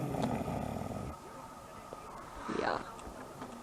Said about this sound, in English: Listen to him snore.